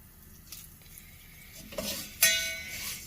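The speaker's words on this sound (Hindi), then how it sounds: "लीजिए अब हम इसमें कुकिंग ऑयल ऐड करें" Cooking oil goes into vermicelli in a hot pan, with a gentle sizzle building and a couple of metal clinks near the end, close and fairly loud with no talk.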